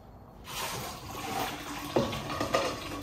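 Fanta or Sprite soft drink poured into a cup, a close fizzy splashing stream starting after a brief quiet moment, with a couple of sharper glugs near the end; no talk.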